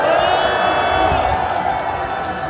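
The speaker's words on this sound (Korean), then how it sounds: "우리 박한석 대표님께 큰 박수 한번 주세요." A crowd at a street rally against a presidential impeachment cheers and applauds, a loud, dense roar with whoops rising early and then easing slightly.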